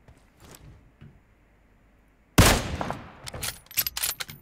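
Gunfire in PUBG Mobile: near silence with a few faint taps, then a sudden loud shot followed by a quick series of sharp cracks and echoing reports.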